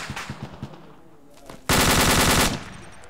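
Arma 2 gunfire: a few muffled suppressed shots pop early, then a loud, dense burst of automatic fire lasts nearly a second before cutting off.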